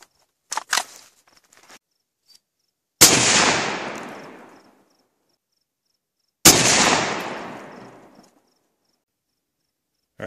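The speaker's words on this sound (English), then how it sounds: "so that's 5 bullets so far, and it's not budging" Two loud, sharp gunshots ring out several seconds apart as .223 FMJ rounds are fired at a steel safe. Each shot leaves a long echoing decay, and faint clicks and handling noises come before them.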